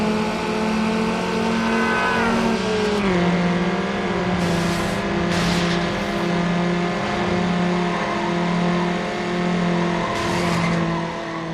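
Cars in a Need for Speed Underground circuit race roar continuously, with a steady engine drone shifting pitch as they take sharp turns, and brief bursts of tire squeal breaking through several times.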